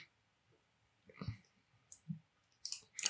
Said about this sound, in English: Now I'm going to click OK here.